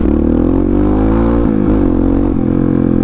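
A powerful motorcycle engine held at a steady loud drone with rising and falling revs and a few brief throttle blips, close and continuous throughout, no talk.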